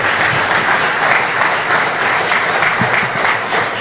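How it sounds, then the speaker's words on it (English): A large audience at a Belizean national awards ceremony honouring patriots in 2025 applauds steadily and loudly, a dense, continuous wash of clapping with no gaps and no talk. "Another round of applause for Edison Seferino Coleman."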